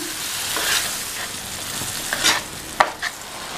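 Scraping and stirring in a pan after water is added, with a few sharp clinks of a utensil against metal over a steady background hiss.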